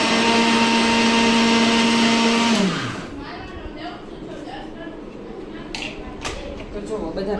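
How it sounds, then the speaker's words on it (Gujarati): A kitchen mixer grinder whirs loudly at high speed pulverising biscuits for about two and a half seconds, then winds down with a falling pitch, leaving clattering and rattling of the jar and faint handling noises. "મિક્સરને ચાલુ બંધ કરતા બધા બિસ્કિટ પીસી લેશું."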